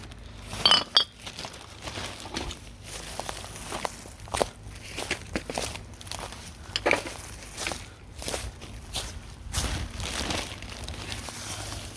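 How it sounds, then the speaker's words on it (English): A glass bottle gives a few light clinks as it is picked up from the woods, among rustling leaves and crunching footsteps on the forest floor. The clinks are sparse and fairly faint. "Oh, it's a cool glass frame bottle."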